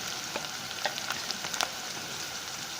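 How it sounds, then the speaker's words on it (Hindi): Onions frying in a pan as they begin to brown, a steady close sizzle with faint crackles and a few soft stirring clicks, no voices. "यहाँ पे प्याज जो है ब्राउन होना शुरू होते हैं।"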